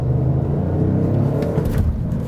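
A 2020 Audi S4 diesel pulls at full throttle in second gear from around 3,000 rpm, its deep engine rumble and low drone steady and close, with no talking.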